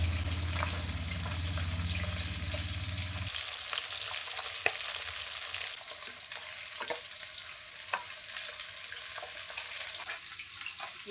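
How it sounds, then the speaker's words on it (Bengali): Bata fish fries in a pan with a continuous close sizzle and occasional sharper crackles; a low background hum cuts out early, leaving the frying alone. "মাছটা ভাজা হতে থাকুক"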